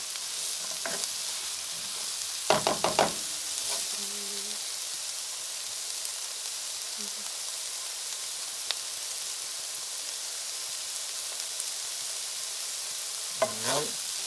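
Carrots fry in a stew pot, giving a quiet continuous sizzle and hiss with a few brief stirring clatters and scrapes.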